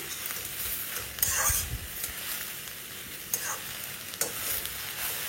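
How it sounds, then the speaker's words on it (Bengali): Ridge gourd frying in oil with garlic, a quiet steady sizzle broken by a few short scraping stirs, with faint voices in the background. "ঝিঙ্গাটা এমনি নর্মাল ভেজে নেবো একটু"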